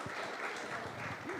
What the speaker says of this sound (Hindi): पहले तो मैं चाहूंगा सभी लोग जोरदार तालियों से ओवैसी साहब का स्वागत करिए।